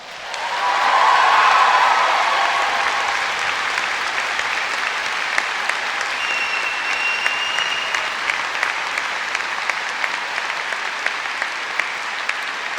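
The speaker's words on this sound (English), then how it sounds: "Cheer for yourselves" Graduates at a university summer graduation ceremony applauding in a large hall, a dense, sustained wave of clapping that swells in the first seconds and holds steady, with scattered cheers.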